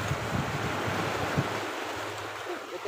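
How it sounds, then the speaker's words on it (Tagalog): Strong sea waves at a rocky shore during a fishing trip, a loud, continuous wash of surf and water roar with wind buffeting the microphone. "Malakas ang alon"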